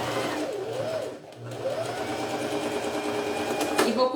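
A sewing machine stitches a makeup bag, its fast mechanical whir running almost continuously with a brief dip in speed partway, close and fairly quiet.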